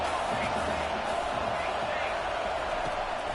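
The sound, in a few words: football stadium crowd cheering on 3rd down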